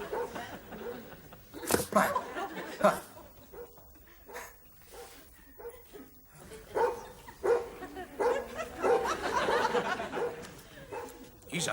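Dog barking in a domestic room, a few sharp barks mixed with a voice speaking and chuckling nearby, fairly close and moderately loud.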